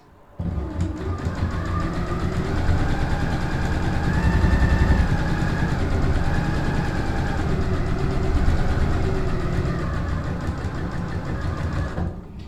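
A sewing machine stitches a fly front zipper in one continuous run, its rapid mechanical whir steady and close for about twelve seconds, swelling slightly midway, with no talking.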